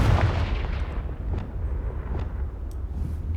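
The Confringo fire spell in the Hogwarts Legacy video game goes off as a heavy, rumbling blast that opens loud and booming, then settles into a sustained low roar with a few faint crackles, and no one talks over it.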